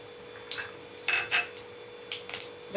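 Mustard seeds crackling and popping in hot oil in a wok while upma is being made, heard as sparse, faint sizzling pops scattered irregularly over a quiet background.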